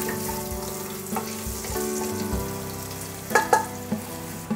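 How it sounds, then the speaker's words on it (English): Garlic and ginger fry in hot oil in a pan, a continuous close sizzle with occasional scraping stirs and a few sharper pops near the end. "Now we'll fry them until we get rid of the raw smell of the ginger and garlic."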